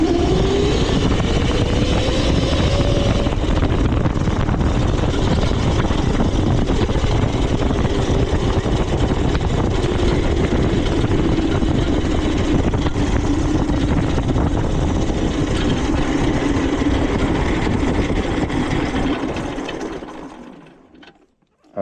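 An electric-converted Yamaha Warrior 350 quad riding in third gear gives a steady, loud motor whine with a rising pitch, running continuously for about twenty seconds before cutting off abruptly.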